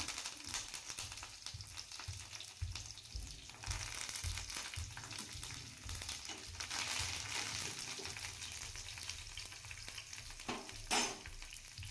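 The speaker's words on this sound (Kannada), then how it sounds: "ಇದು ಸ್ವಲ್ಪ ಫ್ರೈ ಆಗಲಿ. ಈಗ ನಾನು ಕರಿಬೇವು ಹಾಕ್ತಾ ಇದ್ದೀನಿ." Curry leaves sizzle in hot oil in a pan for fried rice, a steady, close hiss broken by frequent stirring scrapes and a brief sharper clatter near the end, with no talking.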